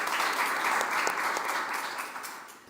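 A conference audience gives panelists a round of applause at a session on climate-vulnerable countries and low-carbon agriculture, a dense steady clapping that slowly fades out.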